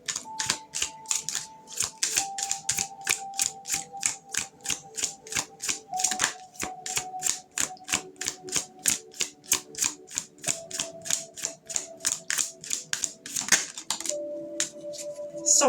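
Tarot cards shuffled from a small deck in a long run of fast, regular crisp riffling snaps, close and steady, with a brief louder flurry near the end and no talking.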